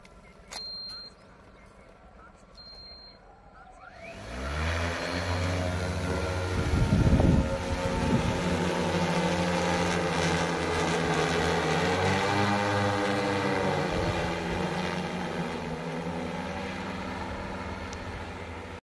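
An agricultural spraying drone over a sugarcane field starts up and settles into a loud, steady multi-rotor whine and hum that holds for the rest of the span after a quiet opening.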